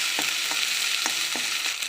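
Spice paste with ground whole cumin sizzles steadily in a pan for a potato chicken curry, dense frying hiss with a few soft stirring scrapes spaced through it, close and moderately loud, no talking.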